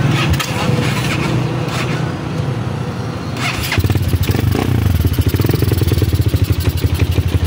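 A Honda XR200 motorcycle runs during a clutch test after its clutch lining was replaced, loud and close, with a rough idle that rises into a faster, pulsing engine beat partway through.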